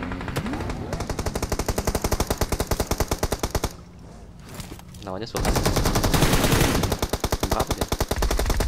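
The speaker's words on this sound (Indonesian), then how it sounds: "Kok musuhnya nembak terus sama dia?" Rapid automatic gunfire from enemies in the PUBG video game rattles in steady, fast bursts, breaks off briefly, then resumes loud and dense, while a voice talks over it.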